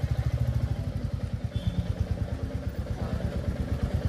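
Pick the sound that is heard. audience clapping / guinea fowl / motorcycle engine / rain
motorcycle engine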